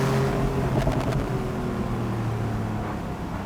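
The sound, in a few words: Porsche 911 Carrera GTS 991.2 manual engine on winding road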